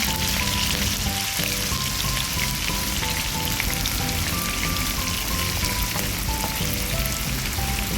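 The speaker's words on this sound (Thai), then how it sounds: "เราก็จะเอาเต้าหู้ลงไป ทอดให้เหลืองทั้งสองด้านเลยนะคะ" Tofu fries in hot oil in a pan, a dense continuous sizzle and crackle that stays loud and even throughout, with no voices.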